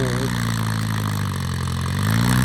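A Ford 6610 single-axle tractor engine runs close by in a steady, low idle, with a deep rumbling drone that holds throughout.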